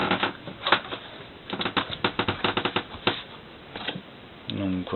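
Trading cards riffle and slap in quick bursts and brisk flurries as they are handled and slid in and out of a binder's pages, close and fairly soft, with a voice talking briefly near the end.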